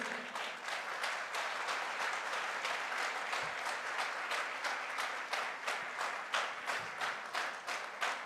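Steady, thin applause from an audience at a direct-selling promotion event in Goa, a continuous patter of many hands at moderate level throughout, with no talk over it.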